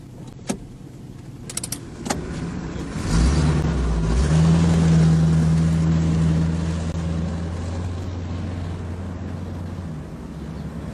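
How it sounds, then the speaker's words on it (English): A Model T Ford starts off after some clicks and knocks, its engine note rising to a loud, steady drone with a rough mechanical rumble that gradually eases as it drives, heard close from inside. "I never thought I'd get a chance to drive a Model T Ford again."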